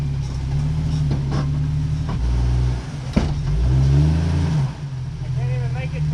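An off-road vehicle hung up on its rear differential on a slippery trail obstacle revs hard in loud, surging bursts close by, with a sharp clunk midway and voices talking over the engine.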